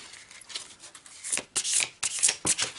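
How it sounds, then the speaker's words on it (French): Tarot cards shuffled by hand before a three-card draw: close, bright riffling and flapping bursts that grow denser and louder in the second half, with no talking. "Allez, c'est parti pour 3 cartes."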